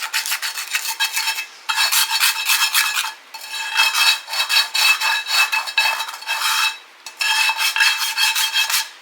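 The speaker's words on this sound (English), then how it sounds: "you just want to use this scraper and you want to scrape all that up" A metal scraper is worked across a dirty skillet during a freezer, fridge and pantry cleanout, making steady raspy scraping strokes in four long close bursts separated by brief pauses, with no talk.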